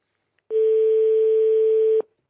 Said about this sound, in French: Ça sonne chez Monsieur Sigli.